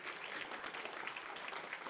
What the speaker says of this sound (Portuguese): Uma salva de palmas para toda essa equipe que eles merecem.